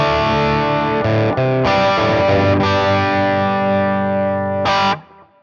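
Crunchy distorted electric guitar tone through a Line 6 Metallurgy amp, a sustained chord ringing loud and close with brief rearticulations, then a final short strum that cuts off into quiet.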